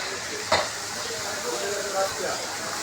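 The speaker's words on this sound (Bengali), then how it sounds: "বাবু অবজারভেশন করছে মাছটা কীভাবে ভাজা হচ্ছে" Hilsa fish frying in a pan at the Mawa ferry ghat gives a steady, close hiss and sizzle, with a brief clatter early on and faint background voices.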